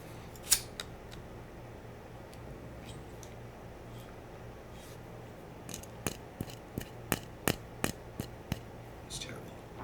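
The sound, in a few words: lighter clicking while lighting incense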